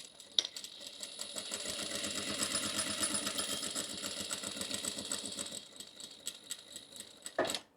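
A sewing machine runs a bag seam in one continuous stretch, its fast, even needle clatter steady and moderately close, then stopping with a soft clunk at the end.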